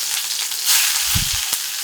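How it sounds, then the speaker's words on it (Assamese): Mutton fries in a wok with a steady, close hiss of sizzling oil, broken by a short rumble of movement and one sharp clink near the end. "এতিয়া অলপ বেছি দেৰিকৈ মই ফ্ৰাই কৰি থাকিম আৰু মটনখিনি"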